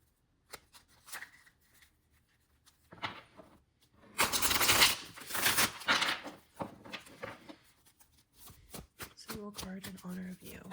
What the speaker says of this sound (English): We're pulling a single card in honor of you, Bailey.